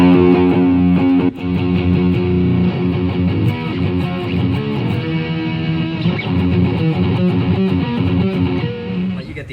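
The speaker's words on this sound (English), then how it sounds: "You also got some cool distortion tones." Distorted electric guitar played through an M-VAVE TANK-G rechargeable multi-effects pedal, a thick sustained overdriven tone with chords ringing continuously, loud and close throughout.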